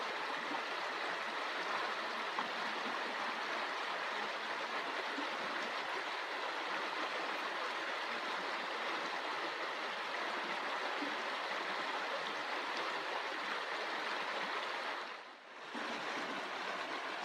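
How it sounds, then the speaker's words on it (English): A creek in a local park flows steadily, its broad, even water rush continuous and moderately faint with one brief dip near the end, no voices. "find a stream in a local park or maybe, in your town or your backyard, and just sit and observe, listen to the water"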